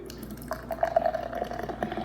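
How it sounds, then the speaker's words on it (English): Red Velvet Ale beer poured hard into a glass, a close, gurgling, splashing stream that runs steadily for about two seconds. "Go ahead and give it my aggressive pour like I always do."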